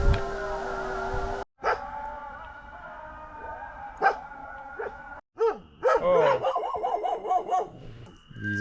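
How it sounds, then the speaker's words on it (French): Dogs barking and howling outdoors at night, with a prolonged wavering howl and several sharp barks spread over the clip, fairly close and loud against a quiet background. "Le chien il chante avec le muezzin."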